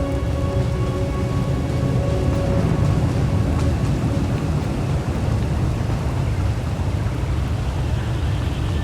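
Thunderstorm in a Star Wars: The Old Republic game scene: steady dense rain with low rumbling thunder and crackling lightning strikes, loud and continuous throughout.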